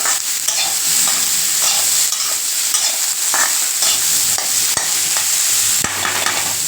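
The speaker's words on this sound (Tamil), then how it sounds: "இப்போ இது நல்ல எண்ணெயிலே வதங்கட்டும்" Chopped beetroot sizzles in hot oil while a spoon stirs and scrapes the pan, with occasional sharp taps, close up and without speech.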